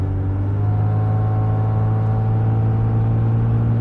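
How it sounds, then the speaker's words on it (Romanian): A 1990 Jaguar XJ40 Sovereign on the move, its engine holding a steady low drone with a resonant exhaust hum, loud and continuous throughout, with no voices. "Are oarece rezonanță evacuarea asta, dar nu pot să zic că e ceva deranjat."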